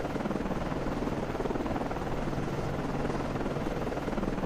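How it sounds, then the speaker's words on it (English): Helicopter lifting off a warship in the naval submarine game Cold Waters, a steady, dense rotor drone with a low hum underneath, constant and fairly loud throughout, no voices. "Con, Flyco, launching aircraft."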